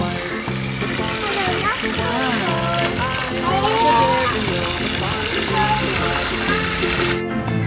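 Water splashing as paint-stained toy cars are washed: continuous sloshing and trickling close by, mixed with children's voices and background music.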